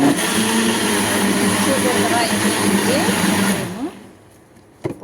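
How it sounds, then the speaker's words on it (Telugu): A kitchen mixer grinder blends cardamom powder and other sweet batter ingredients, a loud steady whirring motor that runs for about four seconds and then cuts off, followed by a short clatter. "ఇప్పుడు ఇదంతా మిక్సీ పెట్టేసుకుందాము"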